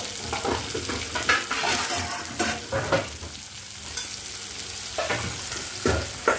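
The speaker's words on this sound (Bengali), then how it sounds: "তেজপাতাটাকে একটু ভেজে নেব। দিয়ে দেব পেঁয়াজ কুচি" Bay leaf and chopped onion frying in oil in a pan, a continuous close sizzle broken by repeated stirring scrapes and utensil knocks, no talk.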